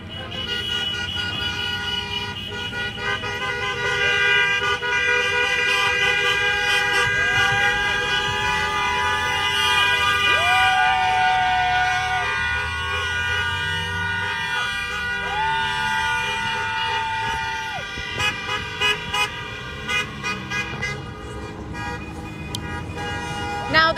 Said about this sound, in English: it's been kind of nonstop horns honking as people are driving by